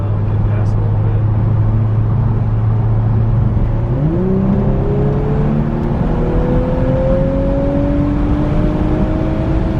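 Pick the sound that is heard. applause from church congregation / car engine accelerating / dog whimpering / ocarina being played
car engine accelerating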